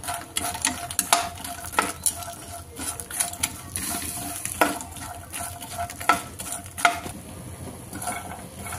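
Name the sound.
puffed lotus seeds (phool makhana) frying in oil in pan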